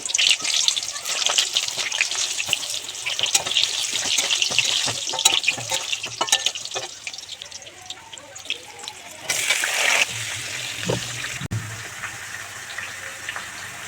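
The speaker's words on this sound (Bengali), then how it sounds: "হিঙের জলটা মিশিয়ে নিলাম।" Soaked asafoetida water is poured and stirred into a spice mix, giving a steady liquid gush and trickle with brief clinks, then a shorter splashing pour near the end.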